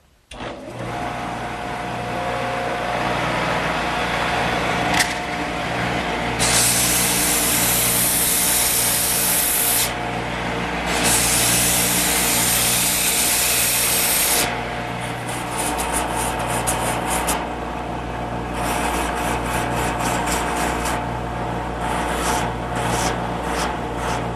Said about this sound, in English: Now with the blank still in the lathe, it's a snap to do the sanding.